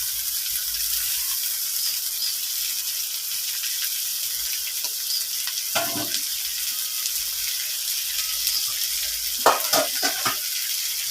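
Greens and potatoes hiss in a hot pan with shrimp for a shrimp curry with stalks, giving a steady loud sizzle with a couple of bursts of stirring and scraping near the end.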